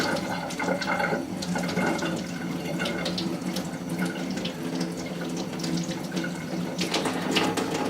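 Tap water runs steadily into a sink while a makeup brush is rinsed, a continuous close splashing flow with faint shifting patter as the brush moves under the stream.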